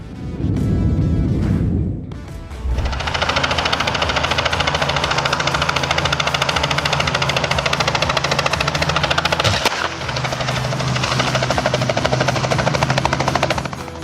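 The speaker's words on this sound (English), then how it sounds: "This Robinson R-44 helicopter, while dropping off a couple for their prom, got a little too close for comfort with some power lines." A Robinson R-44 helicopter takes off, its rotor chopping loud and close in a fast steady beat that runs almost the whole clip, with no talk.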